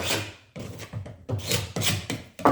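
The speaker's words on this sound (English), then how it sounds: "use a putty knife to get all this loose flaky stuff off" A putty knife scrapes loose, flaky residue from an oily boat bilge in a series of close, gritty, rasping strokes, about six in a row with short pauses between them.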